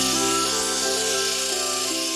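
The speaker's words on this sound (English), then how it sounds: "The handle is then cut and filed." A knife handle being filed in a sword-making workshop, a continuous, dense rasping scrape at close range that stays steady throughout with no voices.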